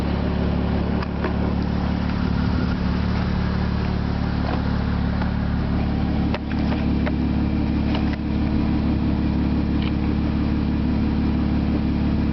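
A 2025 Jeep Gladiator Nighthawk sits idling, its engine giving a steady, close, low rumble that holds even for the whole stretch, with faint clicks and rattles over it.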